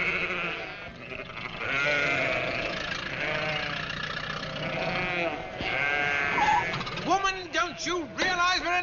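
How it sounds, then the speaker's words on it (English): Sheep bleating in a wavering chorus in a 1953 vintage car comedy scene, with loud overlapping calls over a low engine idle and people talking, the bleats growing sharper and more distinct toward the end. "Now, will you kindly get those sheep out of here?"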